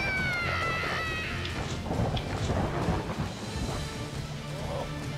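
Thunder rolls with lightning in the jungle level of the Shank 2 video game, a low rumbling crash under thin game tones, fairly quiet and continuous.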